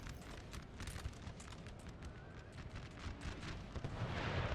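Distant howitzer artillery booms from the Napoleonic battle game Napoleon: Total War, a faint rumbling barrage under a steady crackle of musketry and battlefield din that swells slightly toward the end.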